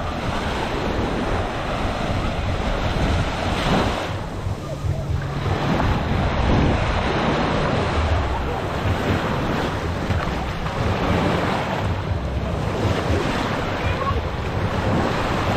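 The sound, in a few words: strong ocean waves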